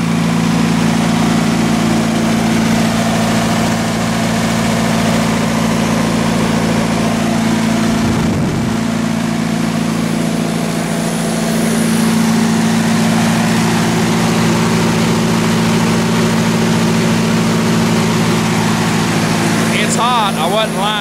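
An MEP-004 single-phase military diesel generator runs steadily, producing a loud, constant low hum and engine drone with a brief disturbance partway through and a rattle near the end.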